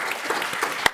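Audience applause with light cheering at a talk on neighborhood housing and real estate, a steady mid-distance clatter of clapping hands filling the whole second, with a sharper single clap near the end.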